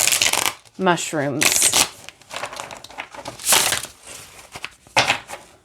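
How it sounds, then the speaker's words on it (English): A Midnight Magic Tarot of Mushrooms deck of 78 cards is shuffled in several loud, close bursts of riffling and crisp flapping, separated by gaps, with a person talking in between. "let's see how it shuffles"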